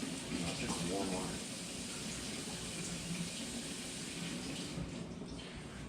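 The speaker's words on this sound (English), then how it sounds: "No, it's just warm water." Warm water runs steadily from a tap, a constant broad rushing hiss that stays even throughout the few seconds.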